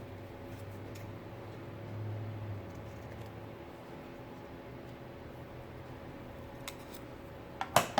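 Scissors snip through small paper scraps to make tiny tags for a junk journal: a few quiet, brief cuts near the end, close by, over a low steady room hum.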